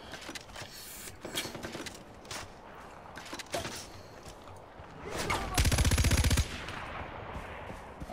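Gunfire in Far Cry 4, scattered single shots and short bursts with clattering in between, building to a loud sustained automatic burst near the end, close and sharp, no talk.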